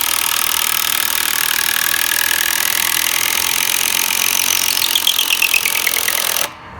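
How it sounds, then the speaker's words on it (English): A nut driver spins a bit to pre-drill holes for a bolt on a solar-powered gate controller install, giving a steady loud whirring grind that holds for about six seconds, then stops abruptly. "you can pre-drill your holes"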